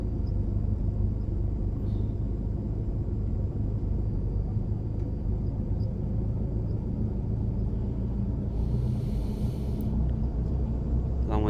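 A helicopter's rotor and engine in Microsoft Flight Simulator as collective and throttle are added: a constant loud, heavy low rumble that continues steadily with a faint whining layer, and someone talks over it.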